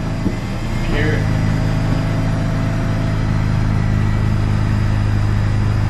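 A Mazda RX8 rotary engine idles steadily while warming up, a constant low hum with a whirring drone running throughout, with people talking over it.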